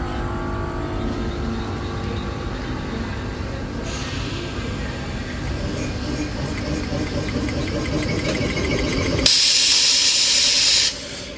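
An electric locomotive of the Antyodaya Express starts at Thiruvananthapuram North: a steady mechanical hum and rumble builds gradually, then a loud burst of hissing air sounds near the end before cutting off.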